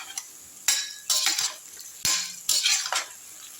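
Yam manchurian pieces frying in hot oil are turned with a metal spoon, giving four or five sharp scraping clanks over a soft, steady sizzle.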